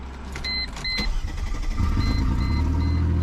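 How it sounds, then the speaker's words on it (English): A cheap used Mercedes AMG cranks and fires up after a couple of chimes and a brief whir, settling into a loud, rough idle with a deep rumble. "Yeah, it starts."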